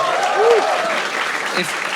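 A studio audience at a comedy talent show applauds for the evening's panel, a loud, dense burst of clapping with a voice calling out over it.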